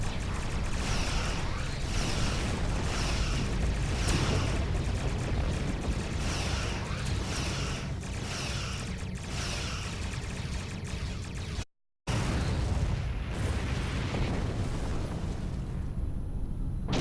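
Starfleet ship under attack in a space combat video game, with dense, continuous rumbling explosions and weapon impacts pounding in a steady rhythm. One brief silent gap, then the barrage resumes, with faint voices mixed in.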